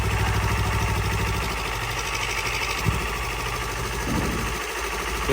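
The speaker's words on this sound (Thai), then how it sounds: "เสียงเครื่องยนต์เงียบ" A 2016 Yamaha YZF-R3 motorcycle engine with 33,000 km idles steadily with a low, even chug, close by and unchanging for several seconds.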